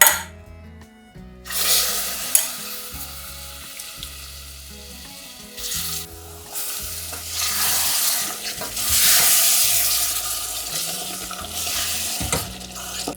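Steady sizzling and frying of roasted tomatoes in a pan for tomato soup, with stirring scrapes and occasional clinks of a utensil, close and continuous.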